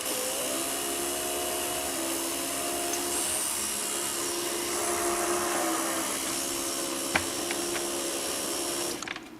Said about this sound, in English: if you ever hear that sound, I'll play it again right now. That means your DDC is probably dead